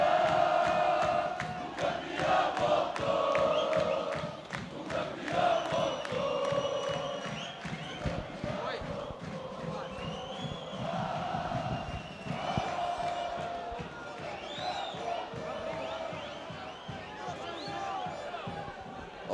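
A packed covered-stadium football crowd roars and cheers after a Jaraguá goal in the Inter versus Jaraguá final, a loud continuous swell of voices and shouts with an announcer talking over it.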